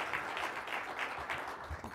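At an HR industry forum talent competition, an audience applauds to welcome a speaker on stage, giving brief, continuous, moderately loud clapping with no speech.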